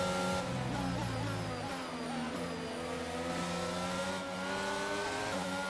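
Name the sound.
race car engine in F1 22 video game, car overtaking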